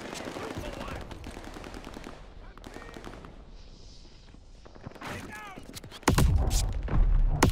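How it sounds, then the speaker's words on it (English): Gunfire in Call of Duty Vanguard crackles in quick bursts under a player's talking, growing into a loud, dense volley near the end. "Someone was shooting me from behind."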